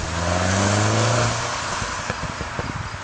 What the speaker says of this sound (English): that popping sound with the exhaust when it's in sport mode